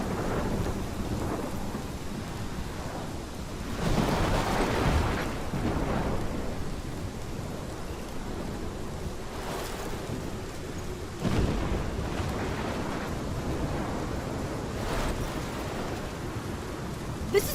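Thunderstorm with steady rain in the game Life is Strange, a constant hiss of heavy rainfall broken by several deep rolling thunder rumbles that swell and fade, no voices heard.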